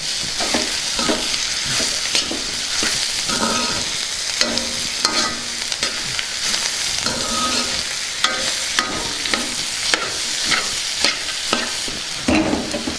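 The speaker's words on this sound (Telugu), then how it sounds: "ఒకసారి కలుపుకుందాం" A carrot and peanut fry being stirred in a pan, with repeated scraping and clacking strokes over a steady frying sizzle that runs throughout.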